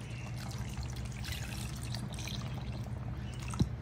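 Thick first coconut milk is poured into a pot of mutton kurma curry, giving a soft, continuous trickle that ends in a faint knock.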